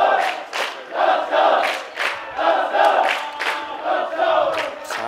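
Crowd cheering and chanting in rising and falling waves at an American football game between the Nagano Bluepers and Shizuoka Falcons, loud and continuous, with no clear talking.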